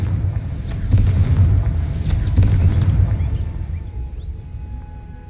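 Spell blast from Confringo in Hogwarts Legacy: a booming burst roars in at once, with a second heavy swell a moment later, then rumbles away into quieter ambience.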